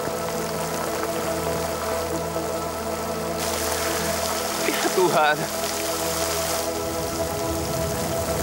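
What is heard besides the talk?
rain falling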